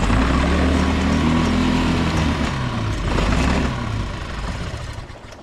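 A small outboard boat motor runs choked and rough, buzzing and sputtering for a few seconds before its rhythm loosens and the engine fades toward a stall.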